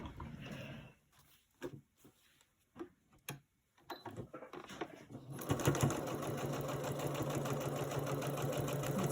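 Quilt pieces are sewn together on a sewing machine: after some faint handling and brief speech, the machine starts up and hums in a steady, loud, continuous mechanical drone to the end.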